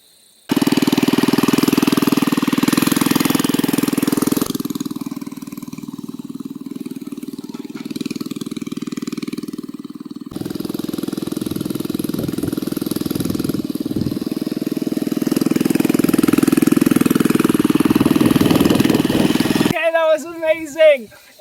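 A mini bike ridden at an off-road park, its small engine rumbling loudly and close for about twenty seconds, revs sagging and swelling, ending with a short squeal as it cuts off.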